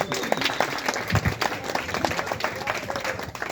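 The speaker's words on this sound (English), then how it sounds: "So another round of applause for Kylie." Applause from an audience at a soil science presentation in a brewery, dense steady clapping filling the room for a few seconds with faint crowd murmur mixed in.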